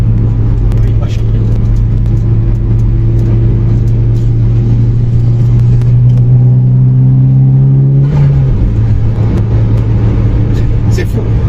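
Turbocharged Mitsubishi Lancer Evolution 9 engine rumbles loud and steady while accelerating, its pitch climbing, then drops sharply with a brief hiss of turbo blow-off near the end as people talk over it.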